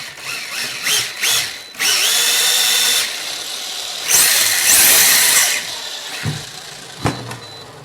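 Electric motor of an RC bike spins up after its wires are swapped, a close high-pitched whine in several bursts of varying length, revving and stopping repeatedly.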